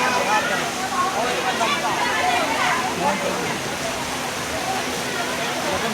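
Water rushing and flowing at Balaram, a steady broadband roar of a stream or small waterfall lasting throughout, fairly loud, with a person talking over it.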